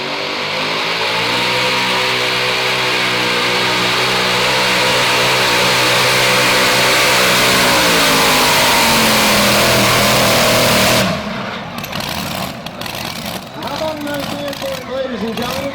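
A Chevrolet pulling truck roars at full power down the track at the Frederick Fair truck and tractor pull, its loud engine drone sustained and rising for about eleven seconds before cutting out, leaving crowd and arena noise.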